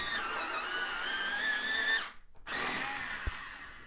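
A pencil being sharpened while a drawing of a blue tit is coloured in, a close, steady grinding that stops briefly partway and then resumes.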